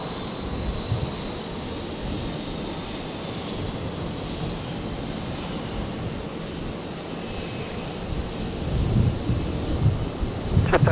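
A Jetstar airliner taking off from runway 01 right at Brisbane airport, heard as a steady distant engine roar with wind noise that swells slightly toward the end.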